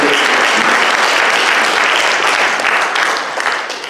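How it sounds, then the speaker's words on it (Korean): A church congregation at a Korean pastors' association gathering gives a dense, sustained round of clapping that holds strong before tapering off in the final second. "박수로 우리 다시 한번"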